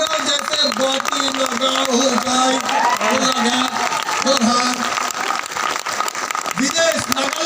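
Seminar audience applause rolls on continuously and loudly, with someone speaking over the clapping for most of its length.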